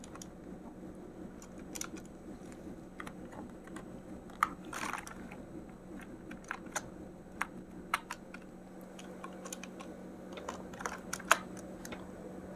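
Typing on a computer keyboard, soft irregular key clicks in uneven bursts, quiet and close over a faint steady background hum.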